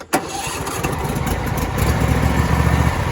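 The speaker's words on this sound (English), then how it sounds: "You have to hold this choke on position while you're cranking the machine over." A John Deere Z525E zero-turn riding mower engine cranks with the choke held on, a loud, close, continuous churning drone that starts with a sharp click and builds steadily in strength, with no talk.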